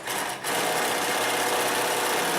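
A Consew 227R-2 industrial sewing machine stitches in a steady, loud continuous whir after a brief pause at the start, with no talk.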